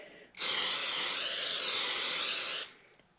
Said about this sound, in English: I'm going to spray that with some cooking spray